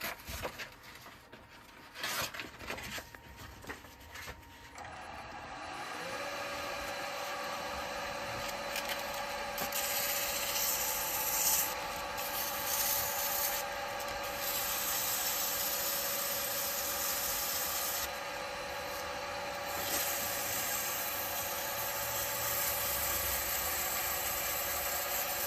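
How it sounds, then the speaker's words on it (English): Sandpaper rubs against the top of a turned wooden cauldron spinning on a lathe, a steady, loud hiss held for many seconds over the constant hum of the running motor. "There's a few marks just there I can see, so I'm going to just sand that."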